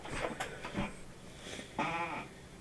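Sheep bleat in a video game: a few short calls early on, then one clear, drawn-out, wavering bleat near the end, fairly quiet against a soft background.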